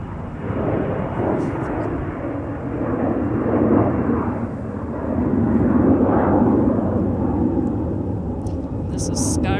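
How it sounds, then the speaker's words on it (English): An airliner bound for Rome takes off from runway 30 left, a broad, distant roar swelling and rumbling steadily in the background while a voice talks over it. "And there's the Rome departure in the background."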